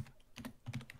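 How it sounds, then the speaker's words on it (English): Keys on a computer keyboard are struck quickly in an uneven clatter of close, crisp clicks over about a second, with no voices. "Someone's smashing their keyboard."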